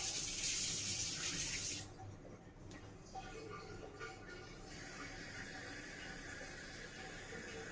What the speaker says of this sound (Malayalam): ഇതിനകത്ത് ഞാൻ നിറച്ച് ചൂടുവെള്ളം ആക്കുവാണേ.